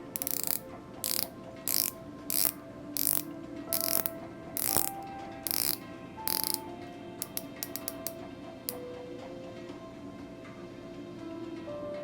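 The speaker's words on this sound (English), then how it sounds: "It has a 120 click bezel with an aluminum insert." A wristwatch's 120-click bezel with an aluminum insert is turned in bursts of rapid, fine ratcheting clicks, then in a few slower single clicks, close up and quiet.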